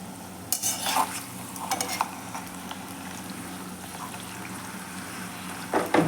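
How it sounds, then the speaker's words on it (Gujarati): Leftover roti being fried in a pan in a home kitchen: a low continuous sizzle broken by several sharp stirring scrapes near the start and end. "રોટલી તળું છું"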